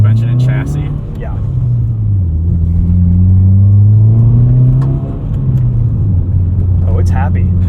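A modified 2020 Subaru WRX with a six-speed manual gearbox revs hard from the driver's seat, its engine note climbing and settling in a loud, steady rumble under brief bursts of in-car talk.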